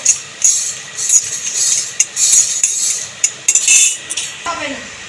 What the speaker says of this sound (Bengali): খালি কড়াইয়ের মধ্যে আমি ভেজে নেব শুকনো লঙ্কা নেড়ে ছেড়ে